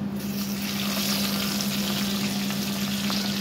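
Turmeric and salt sizzle in hot oil in a kadhai while making a new-style baingan sabzi, a steady bright frying hiss with faint crackles and a low hum underneath, close and continuous.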